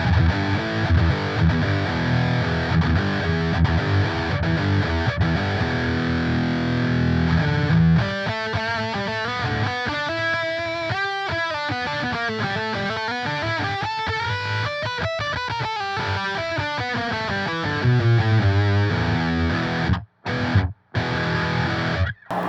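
Distorted electric guitar played through a Pigtronix Gatekeeper noise gate pedal, loud sustained riffing and chords with rhythmic note changes, cutting abruptly to near silence in short gated gaps near the end.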